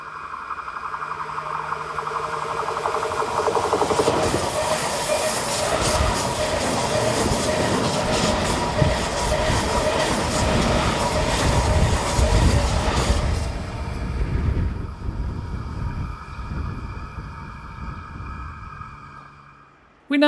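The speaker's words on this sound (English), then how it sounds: "A Class 525 leads 3 Class 535s on a train bound for Bern." A BLS freight train bound for Bern, a Class 525 leading three Class 535 locomotives, rumbles past on the Thun–Kandersteg line with steady wheel clatter and engine hum, loud and sustained before fading.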